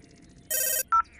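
A telephone rings with a short electronic trill burst followed by a brief higher tone, loud and clear in a quiet room with no talking.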